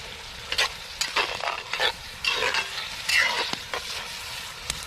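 Fresh tomatoes cooking in a Dutch oven over a campfire sizzle softly while being stirred, with scraping spoon strokes in irregular bursts over a low background.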